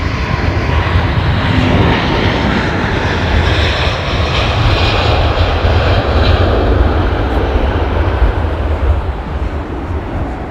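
An Air China Boeing 747-8i's jet engines roar loud and continuous on takeoff, a broad, rumbling blast that holds steady and close throughout.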